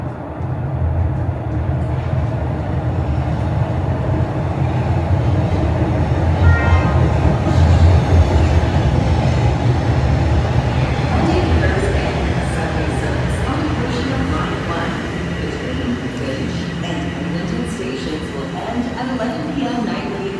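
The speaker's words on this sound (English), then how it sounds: "And here comes a southbound train." A southbound Toronto TTC subway train arriving at Pioneer Village Station, a loud sustained low rumble and rolling rattle of wheels on track swelling as it pulls in, with occasional higher squeals and some talk over it.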